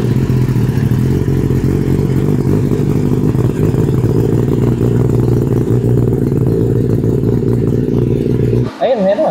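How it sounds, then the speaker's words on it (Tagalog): Kawasaki ZX10R 1000cc sport bike engine idling after an oil change, a loud, steady, close rumble with rhythmic mechanical clatter, cut off at the end. "Start natin yung makina para mag-circulate yung oil."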